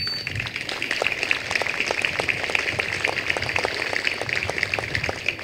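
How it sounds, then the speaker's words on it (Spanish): Audience applause at a Benito Juárez birth anniversary ceremony in Matamoros, Mexico, honoring the Mexican armed forces: dense, steady clapping from a crowd, sustained and fairly loud throughout. "aplaudamos a las Fuerzas Armadas"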